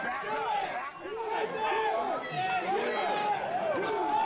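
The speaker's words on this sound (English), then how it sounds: "listen to the crowd. They are behind the champion." A wrestling crowd at an FSW High Octane TLC match cheers loudly and continuously. Many voices shout and whoop in a dense, sustained din with no pause.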